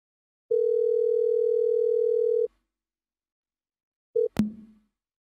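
A steady telephone dial tone on a VoIP line holds for about two seconds, then after a pause a brief beep and a sharp click follow. The line is clean and quiet, with no talking.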